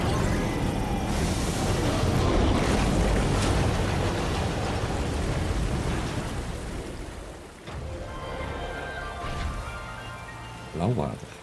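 Sea waves wash along a shoreline in the Death Stranding 2 game world, a steady broadband surge that thins out midway before a brief louder swell near the end.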